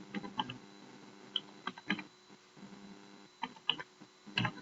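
Quiet clicking of keys on a computer keyboard while a value is entered into an Excel spreadsheet, with irregular taps over a low electrical hum.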